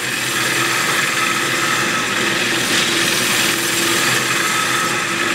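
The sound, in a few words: hollowing spalted walnut vase on lathe with small cutter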